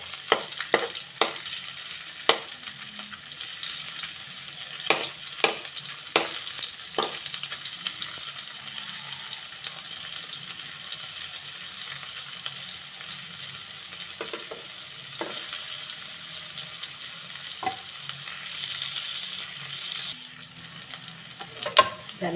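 Ginger for pork adobo fries in a pan with a faint, steady sizzle, broken by a few sharp clicks and taps of stirring, heard alone.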